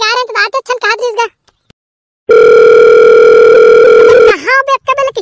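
Telephone tone while a call is placed in a Hindi cartoon comedy, a steady electronic tone of about two seconds between bursts of cartoon voices, loud and close.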